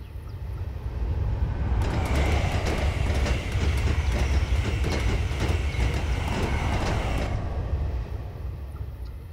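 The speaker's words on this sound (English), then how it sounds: "Ah, here comes the train. Ooh, it's that express train earlier." An express train in Train Simulator 2017 rushes through a station, its loud roar and rattling wheels swelling in and then fading over several seconds against a steady low rumble, with no voices.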